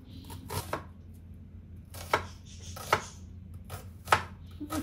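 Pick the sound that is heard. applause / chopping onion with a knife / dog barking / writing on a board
chopping onion with a knife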